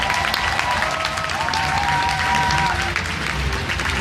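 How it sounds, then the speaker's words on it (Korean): Sustained audience applause fills the space at a social welfare rally in Busan, dense and steady clapping from a large crowd, with a faint voice underneath. "한번 큰 박수와 박수를 부탁드리겠습니다."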